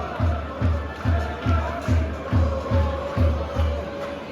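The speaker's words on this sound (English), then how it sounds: "listen to that amazing crowd already" A football stadium crowd in a video game roars at a freestanding stadium on a Tuesday night, a steady wash of massed voices with a rhythmic pulsing chant or clap repeating about twice per second throughout.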